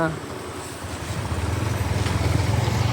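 Motorcycle engine droning steadily as two riders travel together on one bike, the hum rising slightly and holding close under brief voices.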